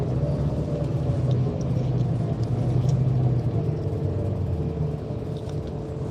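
A rail replacement bus rumbles along with a steady low engine drone inside the cabin, constant and moderately loud, with faint rattles and no voices.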